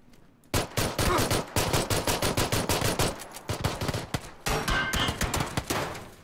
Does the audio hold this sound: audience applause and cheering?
no